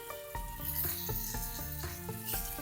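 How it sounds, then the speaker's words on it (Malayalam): Masala-marinated paneer pieces drop into hot oil and fry with a steady, close hissing sizzle that runs throughout, while a melodic tune plays underneath. "ഈ ചൂടായ എണ്ണയിലോട്ട് നമ്മൾ മസാല ചെയ്ത് വെച്ചേക്കുന്ന പനീറില്ലേ ഇട്ട് കൊടുക്കാം"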